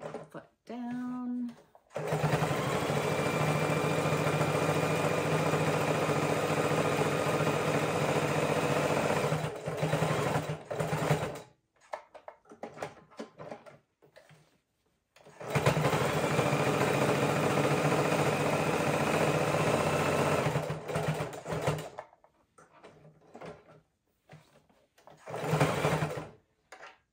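A sewing machine stitches a seat belt cover in two long, steady, close runs of rapid whirring, separated by pauses for pivoting the fabric, with a short burst near the end.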